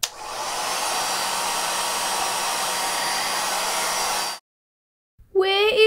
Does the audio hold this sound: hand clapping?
no